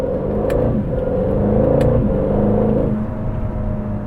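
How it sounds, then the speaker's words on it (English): A 2025 Aston Martin Vantage or 2024 DB12 rolls over speed bumps, giving a steady close engine drone and road rumble with a couple of soft thumps partway through, then easing off toward the end. "I'm gonna go over some speed bumps right now to see how it feels going over a speed bump."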